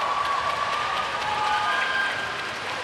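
A crowd at a netball match between Singapore and Malaysia claps and cheers in a steady, dense wash of applause, sustained and fairly loud, with faint whistle-like tones drifting above.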